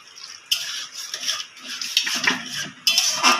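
Semolina simmering in milk is stirred in a pot over low heat, a spoon scraping and clinking against the metal in irregular bursts, close and clear with no voice.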